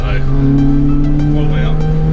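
Toyota Celica T Sport with VVTL-i accelerating hard, a loud, close, droning engine note held steady from inside the car, with a person speaking over it.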